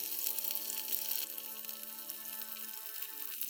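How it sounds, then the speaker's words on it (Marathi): Two fish coated in spiced semolina fry in oil, a faint, steady crackling sizzle with a soft constant hiss and a few tonal hums beneath it. "हे दोन्ही मासे फ्राय करायला घेतलेत"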